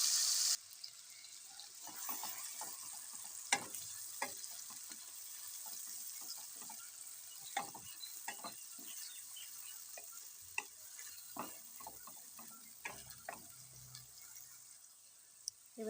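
A poppy seed and cashew paste fries in a pan with oil while it is stirred, for a vegetarian malai paneer. Soft crackles and scattered spatters sound at a quiet level, with occasional scraping clicks of the stirring spoon.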